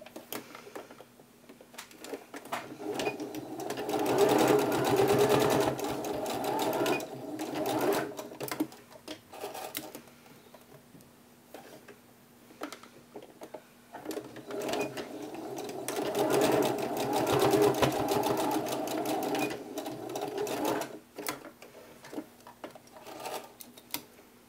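A sewing machine stitches out pieces of a peacock Halloween mask, running in two long bursts of steady rapid stitching with a quieter pause between them.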